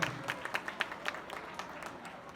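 Scattered hand claps from a few wedding guests and witnesses at a civil marriage ceremony in a municipal office, light and uneven, fading within a couple of seconds.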